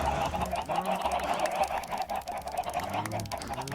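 A flock of chickens in a hardcore vanilla Minecraft world clucks and squawks in a dense, continuous, overlapping chorus. The sound is steady and close, with no one speaking over it.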